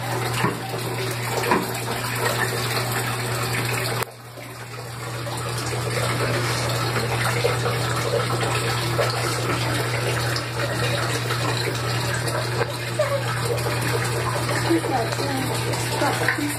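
Water gushes steadily from a tap into a bath while a Chihuahua is rinsed, a continuous close rush with a brief interruption partway, and people talk faintly underneath.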